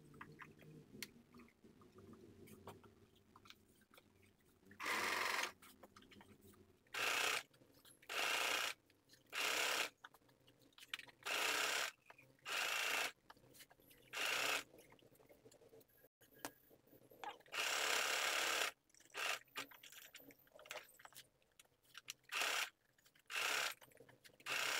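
A sewing machine stitches folded-in piping along a blouse neckline in a run of short, loud bursts separated by quiet pauses, close and clear with no talking.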